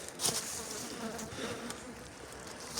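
Honeybees work at a hive entrance during a spring inspection, their dense, continuous buzzing close and steady, with a few louder passes as individual bees fly near.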